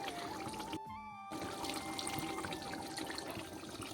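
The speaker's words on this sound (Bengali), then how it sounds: "আর একটু জল দেব" Water pours into a simmering Noakhali-style bhetki fish curry, a close, steady trickle and splash that cuts out briefly and then resumes, with no voices.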